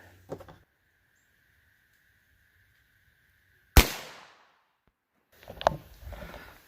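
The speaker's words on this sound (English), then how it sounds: "Went a little high on that shot, but still contained it all" A single Federal Punch .22lr round fired into ballistic gel at about five or six yards: one sharp, loud crack with a brief ringing decay, preceded and followed by faint handling noises.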